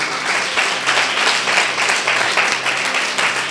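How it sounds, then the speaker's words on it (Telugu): Church congregation claps loudly and steadily, many hands together in a dense, continuous burst of applause with no speech over it. "గట్టిగా చప్పట్లు కొట్టి ప్రభు నామమున కనపడతాం"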